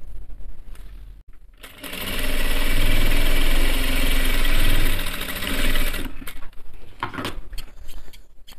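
A sewing machine runs steadily for a few seconds while stitching the shoulder pieces of a men's kameez together. The motor hum is loud and continuous, with brief handling noises before and after the run.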